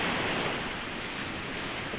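Sea waves wash steadily onto the beach at Peraküla, a dense, broad surf roar with some wind noise, continuous and fairly loud with no voices.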